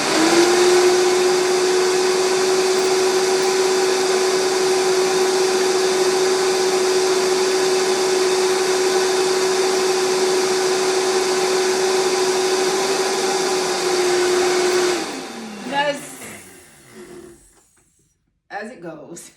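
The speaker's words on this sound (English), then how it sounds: "now I'm going to just blend this" A countertop blender whirs steadily at high speed through cashew cream with maple syrup for about fifteen seconds, a loud constant motor drone that then winds down and stops.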